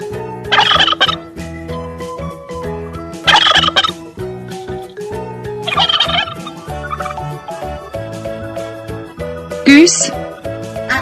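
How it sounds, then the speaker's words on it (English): A turkey gobbles in quick bursts over a steady children's music backing track, with a few loud gobbling calls standing out near the front. "Turkey."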